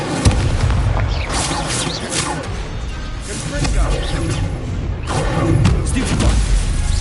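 In the video game Hogwarts Legacy, the Incendio fire spell goes off with loud, booming bursts and a roaring rush of flame that swells again toward the end.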